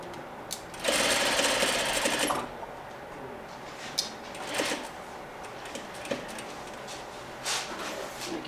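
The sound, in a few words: sewing machine stitching a chair slip cover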